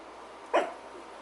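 A single short, moderately loud bark from a small guard dog indoors, a brief yelp over low room hum.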